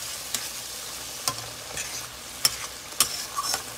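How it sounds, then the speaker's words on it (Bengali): Onions sizzle in hot oil for an egg curry, with a spatula scraping and stirring in a few soft, irregular strokes under a steady faint frying hiss. "তেলটা ছেড়ে যাবে পেঁয়াজ থেকে ততক্ষণ অব্দি ভাজবো"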